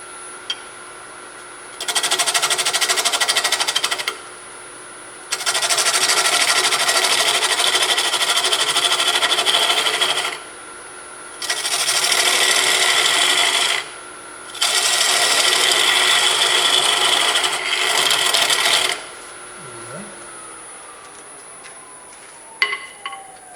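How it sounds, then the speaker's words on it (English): A woodturning tool scrapes a spinning wood workpiece on a lathe, producing four sustained, loud hissing passes of a few seconds each, separated by brief pauses filled with a steady motor hum. "basically what you're doing here is you're scraping"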